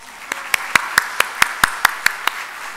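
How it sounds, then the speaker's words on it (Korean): Sparse, slow clapping from a small church congregation welcoming a pastor, about ten distinct claps in a steady rhythm, fairly close and clear with no voices. "목사님 오실 때 큰 박수로 환영하겠습니다"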